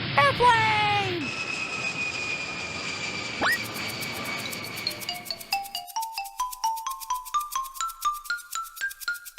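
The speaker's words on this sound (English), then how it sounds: "Airplane!" A cartoon-style airplane sound: a jet engine roar builds and passes, then gives way to a rising series of bright musical tones, with a voice briefly heard.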